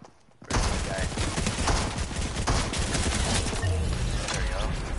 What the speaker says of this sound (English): I got a bot shooting at me.